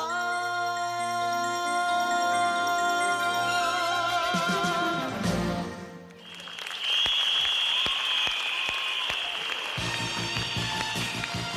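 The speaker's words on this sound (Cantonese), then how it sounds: "我哋再一次熱烈嘅掌聲" At the eighth New Talent Singing contest in 1989, a sung ballad's final sustained notes fade out. A large audience then breaks into steady, dense applause that carries on to the end.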